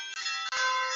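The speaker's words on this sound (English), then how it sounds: "Those resonant, echoing bells." A granular synthesis drone built from resonant, echoing bells gives a sustained bright, shimmering tone with dense ringing overtones, steady and close, briefly dipping twice.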